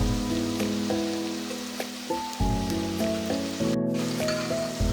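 Onions and garlic frying in a pan until golden: a soft, steady hiss of sizzling oil runs beneath louder background music with sustained tones.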